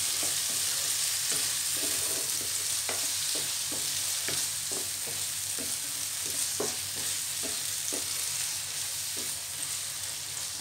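Tomato and green chili sautéing in a pan, a steady sizzle with repeated soft scrapes and taps of a spoon stirring at a moderate, uneven rhythm, close and alone.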